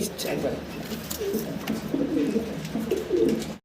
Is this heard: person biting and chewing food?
no